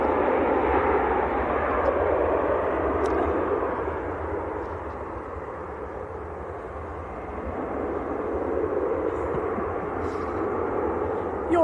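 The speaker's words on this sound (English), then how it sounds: "Eurowings to Stuttgart next to go. A319." A Eurowings Airbus A319 at Manchester Airport, its engines a broad, continuous rumble that dips slightly in the middle and builds again toward the end, steady and fairly near.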